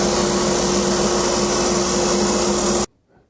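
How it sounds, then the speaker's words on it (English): Sandpaper held flat against a spinning wooden table leg on a lathe gives a loud, steady, close whirring hiss with a motor hum underneath. It cuts off abruptly near the end, leaving near silence. "you can use a large piece of sandpaper and just hold it flat against it"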